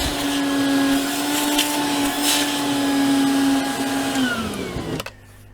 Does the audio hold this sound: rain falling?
no